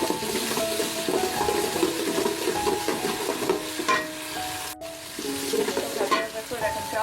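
Ginger paste fried in oil with cinnamon and cardamom for biryani, making a continuous loud sizzle as a spoon stirs and scrapes the pot, with a short break partway through.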